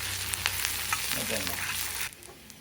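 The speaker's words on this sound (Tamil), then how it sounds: "இஞ்சி பச்சை மிளகா கருவேப்பிலையை இதோடு சேர்த்து நல்லா வறுத்துக்கலாம்" Steady crackling sizzle of ginger, green chili and curry leaves frying in hot oil, with a few stirring scrapes, continuous for about two seconds before cutting out.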